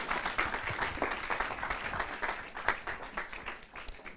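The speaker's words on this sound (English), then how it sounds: "One last round of applause for our guest speaker and some local speakers as well." Audience applause for guest speakers and local speakers at a youth event in a theatre, a dense, steady wash of many hands clapping with small swells, fairly close and filling the room.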